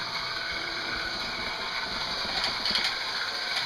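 A British Marx 2509 Silver Link A-4 toy locomotive with freshly oiled wheels and axles runs steadily, giving a continuous close whirring and clicking mechanical rattle with no voices.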